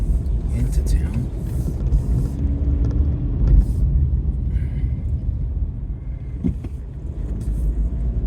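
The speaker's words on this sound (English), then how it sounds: "This time I'm actually driving into town." A car driving into town on a city drive gives a steady low engine and road rumble from inside the cabin, with someone talking over it.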